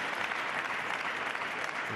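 Spectators applaud at the men's singles final of the 2015 European table tennis championships, a steady even wash of clapping heard from a distance with no voices.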